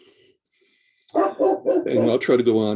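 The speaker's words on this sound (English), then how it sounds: "I'm really sorry about the dog barking" A household dog barks during an online talk about open space and recreation planning, giving short, loud bursts that mix with a person speaking nearby.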